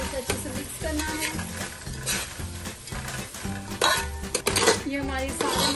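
A spatula scrapes and clatters through Mumbai-style veg tawa pulao with kasuri methi on a hot tawa, making repeated rhythmic metal knocks over a soft sizzle.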